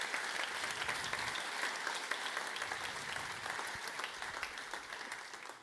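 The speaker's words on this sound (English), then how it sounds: "So please give a round of applause to Paola once again." An audience at an Amazon forest conservation talk applauds a speaker, giving steady, full clapping from many hands that holds evenly and fades slightly toward the end.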